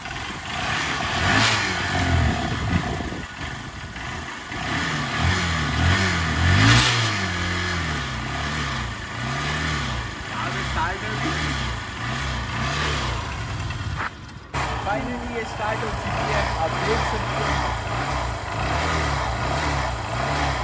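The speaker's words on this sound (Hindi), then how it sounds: "इसका फर्स्ट सेल्फ मार दें, देखते हैं इसकी बैटरी अभी तक सही है या नहीं" A motorcycle left standing for eight months is started on the self-starter and revved, its engine rising and falling in repeated loud revs, close and continuous throughout.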